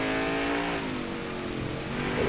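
A NASCAR race car in the NASCAR Heat 5 video game on the Indy Roval, its engine holding a steady, dense drone throughout with no talk.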